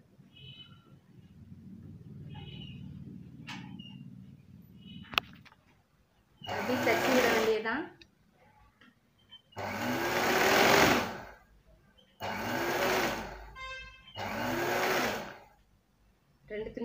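Sewing machine stitching folded cloth in four loud, steady bursts of whirring stitches separated by short pauses, with quiet talk and handling sounds before the first run.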